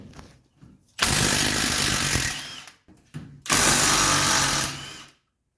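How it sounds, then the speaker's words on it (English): A power tool unscrewing the lower brake caliper bolts on a 1979 Mercedes 300SD gives two loud, sustained whirring bursts close by, separated by brief softer rattles and a quiet gap. "you just saw me unscrew the bottom bolts on the brake calipers"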